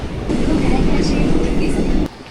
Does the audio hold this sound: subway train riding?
yes